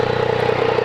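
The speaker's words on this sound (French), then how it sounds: "c'est le moteur du MT9" A Yamaha MT-09 motorcycle engine idles steadily with a low, even rumble and a faint mechanical clatter, close by and continuous.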